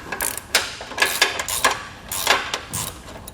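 A ratchet tightens a U-bolt at the corner of a Malone EcoLight Sport trailer frame, giving several bursts of quick mechanical clicking close up, with brief pauses between strokes.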